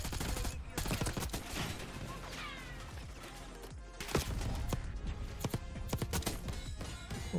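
Dense, rapid gunfire in the video game Call of Duty Black Ops 6, with sharp repeated bursts and single shots crackling close and loud throughout, with no speech over it.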